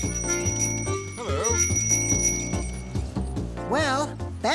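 A bell on a cartoon vehicle moving around town rings in quick repeated dings over a busy musical cartoon soundtrack, with animated character voices in between.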